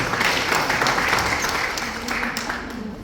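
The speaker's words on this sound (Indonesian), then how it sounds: "tepuk dulu untuk lokasi" A seated audience at a network marketing business seminar breaks into steady, loud applause, sustained clapping that fills the whole stretch with no talking.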